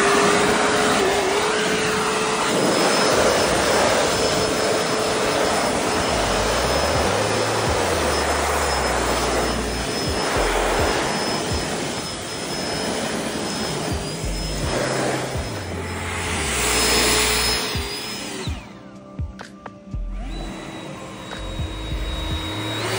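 Ryobi handheld backpack leaf blower running at close range, a steady loud roaring whoosh with a thin high whine on top. The engine pitch shifts as the throttle rises and falls, then drops toward the end.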